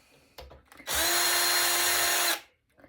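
A power drill whirs in a single loud, steady burst of about a second and a half while removing screws from audio equipment being torn down, preceded by a few small clicks and handling noises, close up.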